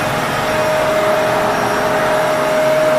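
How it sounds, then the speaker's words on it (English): A household vacuum cleaner runs loud and close indoors, a steady whirring roar with a constant whine on top, unbroken from start to finish. "my mom is vacuuming"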